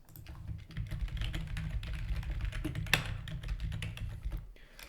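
Computer keyboard typing as Java code is entered, a steady run of quick, soft clicks close by with a few brief pauses and no talking.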